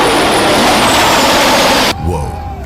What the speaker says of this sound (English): this tractor's tearing through the mud pit like a beast on a mission.